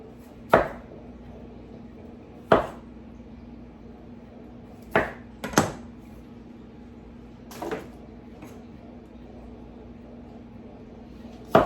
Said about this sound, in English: And just slice these up.